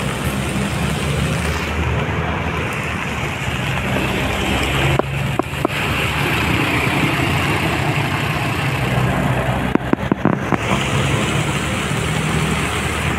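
Vehicles move slowly through a flooded street, with a steady, dense hiss of churning water over low engine idling and occasional brief splashing bursts, loud and continuous throughout.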